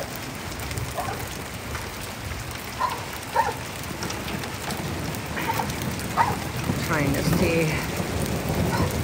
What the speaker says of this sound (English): Just a thunderstorm, a good thunderstorm for Southern California.